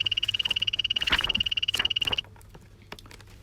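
Poison dart frog croaking in a rapid, steady pulsing trill, loud and close, running for about two seconds before stopping, with faint rustles afterward.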